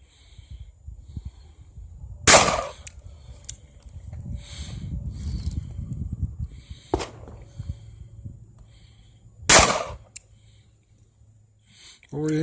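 At an outdoor gun range, two loud, sharp gunshots ring out several seconds apart, with a fainter crack between them, while people talk and breathe nearby.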